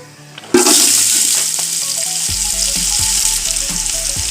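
Sliced garlic dropped into hot oil with cinnamon, cloves and cardamom bursts into a loud, steady sizzle that rushes up suddenly and keeps hissing, with faint clinks of stirring.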